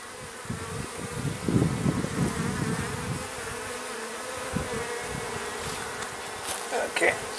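Honey bees buzzing steadily around open hive frames during a hive inspection, a dense continuous drone close by, with a few louder passes as individual bees fly near.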